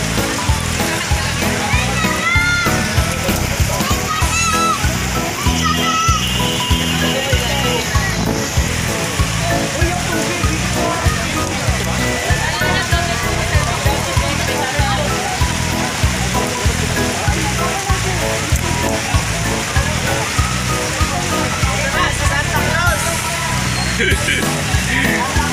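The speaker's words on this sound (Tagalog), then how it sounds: "Ang ulan." Rain falls steadily with splashing and spattering on surfaces during a charity bike ride, a dense continuous wash, while people talk and children's voices come through underneath.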